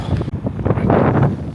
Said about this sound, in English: Let's see if you can hear me over all this wind